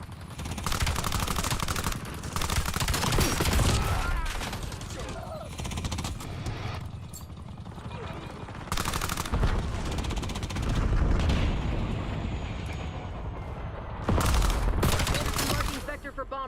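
Rapid automatic gunfire and booming blasts from Call of Duty Black Ops 7 multiplayer, loud bursts repeating across the scene with short lulls, mixed with in-game voice callouts.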